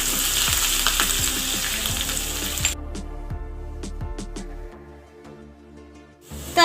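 Chopped green chili and sesame seeds sizzling in hot tempering oil for rava dhokla, a strong crackling fry that drops to sparse spits and pops before a final burst.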